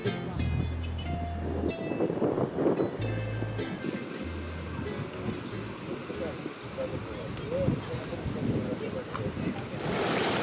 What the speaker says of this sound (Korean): 바닷가의 파도 소리가 여간이 아니다